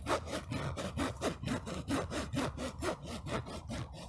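A thumbnail scrapes back and forth across bone-dry fabric in steady, even strokes, giving a raspy, deep rubbing sound, close and unaccompanied.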